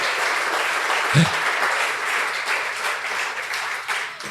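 Church congregation applauding in a steady dense patter of many hands, moderately loud and continuous throughout, with a faint voice briefly underneath.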